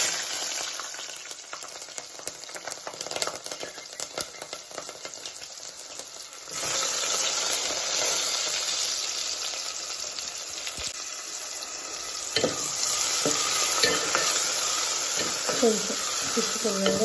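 Onions and green chilies frying in hot oil for an eggplant and potato curry, a steady close sizzle and hiss that grows louder midway, with scraping stirring noises toward the end.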